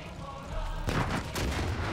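Gunfire in the video game Far Cry 5, with two heavy, booming shots or blasts over a dense, noisy game backdrop, loud and close.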